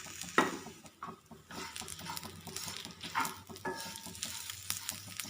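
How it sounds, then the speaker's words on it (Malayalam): Grated coconut, garlic and dried red chillies fry in a pan for an okra curry, giving a steady sizzle broken by the scrape and clatter of stirring, with no talk. "തേങ്ങ ബ്രൗൺ കളർ ആകുന്നവരെ നമുക്കൊന്ന് വറുത്തെടുക്കാം"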